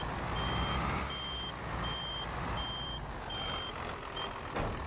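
A truck reverses in the Farming Simulator 22 game, its backup alarm giving a steady series of about six evenly spaced beeps over a low engine rumble, with no talk.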